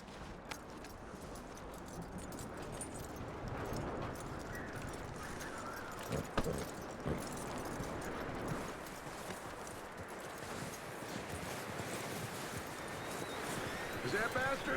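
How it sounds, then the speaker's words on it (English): Horse hooves clip-clop steadily on the ground in Red Dead Redemption 2, a fairly close, continuous rhythm under gameplay ambience and intermittent male dialogue. "That looks like a decent horse."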